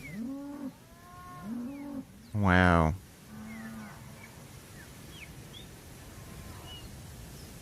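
Cows moo several times in a row, long low calls fairly close, and one person says a brief word in between. Quieter ambient noise follows.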